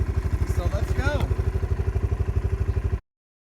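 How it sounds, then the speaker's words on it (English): A quad runner ATV engine chugs in a fast, even pulsing rhythm while riding on a farm property, loud and close, with a short burst of speech over it before the sound cuts off. "We're on the quad runner. So let's go."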